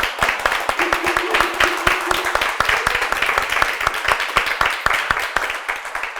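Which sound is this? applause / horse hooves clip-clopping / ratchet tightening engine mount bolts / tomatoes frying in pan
applause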